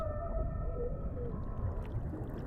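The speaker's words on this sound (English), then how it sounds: "The whales in different oceans have different songs." Humpback whale song underwater: faint, drawn-out tonal moans gliding over a low rumbling ocean background.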